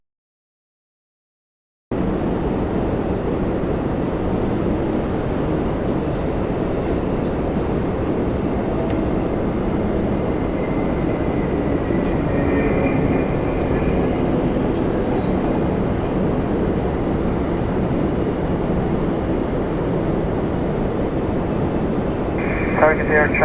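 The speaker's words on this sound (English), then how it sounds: "Up next, Avianca 324 from San Salvador, a 320 Neo" An Avianca Airbus A320neo from San Salvador arrives at Toronto Pearson, its engines a loud, steady roar lasting throughout, with a voice talking over it.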